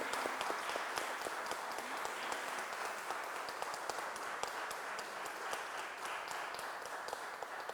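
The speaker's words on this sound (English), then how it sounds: "A round of applause for this moment" Applause at an MoU signing ceremony between the Indian Museum, Kolkata and Sister Nivedita University: steady, fairly faint clapping from a gathered audience that carries on evenly from start to finish.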